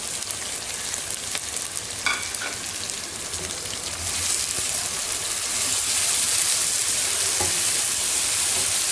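Chopped tomatoes tipped into chicken browning in hot ghee for a Pakistani chicken karahi, setting off a loud, dense sizzle that builds and hisses steadily, with a few clinks from the pan, and no talking.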